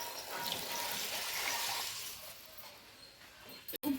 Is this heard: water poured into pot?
yes